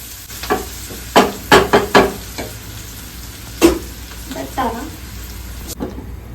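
Cut onions fry in a hot tempering for puri curry, a low steady sizzle broken by several sharp knocks and scrapes of a spoon against the pan, close by.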